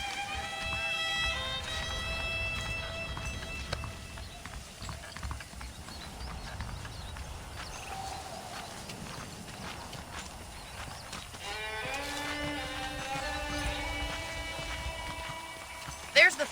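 Horses in the Red Dead Redemption video game clip-clop steadily at a walk under a backdrop of game music and ambience, with voices speaking over them.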